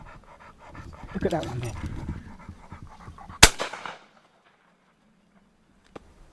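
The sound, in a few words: dog panting during pigeon shooting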